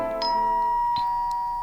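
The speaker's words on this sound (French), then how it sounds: "La sonnette retentit." A doorbell chimes in the video game Memory of Souls, a two-tone ding-dong with a sustained ringing tail, fairly clear over a quiet background.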